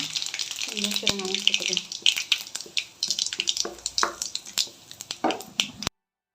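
Mustard seeds splutter in hot oil in a pan, crackling in quick, sharp, uneven pops that come close and loud at first and then thin out into scattered bursts. A voice talks briefly early on.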